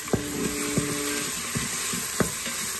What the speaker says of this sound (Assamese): সেইখিনি ভাজি ভাজি ইয়াৰ পৰা পানীখিনি শুকাই গৈছেগৈ